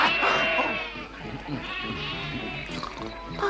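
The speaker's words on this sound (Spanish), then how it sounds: "Ha sido una de esas ovejas tontas." Sheep bleating in an animated farm scene, several wavering calls overlapping close by and fairly loud, with lively animal commotion underneath.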